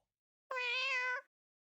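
A cartoon cat meows once in the game Mewgenics, a single clear, drawn-out mew lasting under a second, close and loud against silence.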